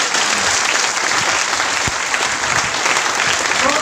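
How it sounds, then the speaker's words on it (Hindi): A crowd at a Teachers' Day honoring ceremony, part of an annual festival, bursts into loud, sustained applause for the teachers, with thick, continuous clapping from many people holding level throughout. "आज के शिक्षक दिवस पर सभी शिक्षकों के अभिनंदन में जोरदार तालियां"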